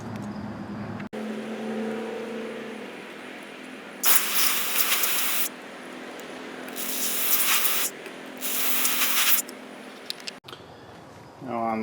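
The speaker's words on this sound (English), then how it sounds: "We're going to take some carburetor cleaner, spray in every one of those little holes." Carburetor cleaner sprays from an aerosol can into the small passages of a Pulsar generator's carburetor in three loud, sharp hissing bursts of a second or more each, with low background hum and clicks between them.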